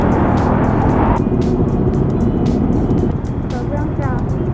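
Dense road traffic surrounds a moving motorcycle, a steady loud broadband roar of engines and tyres with passing vehicles, while a voice talks faintly over it.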